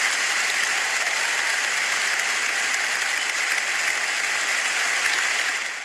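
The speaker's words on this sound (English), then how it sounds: "Can we get a little round of applause?" A studio audience breaks into steady, dense applause that holds evenly for about six seconds before starting to fade, with no talking over it.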